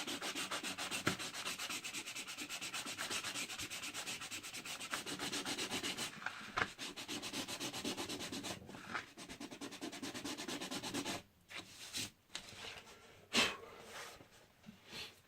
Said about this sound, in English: just take a piece of sandpaper and rough up the edge.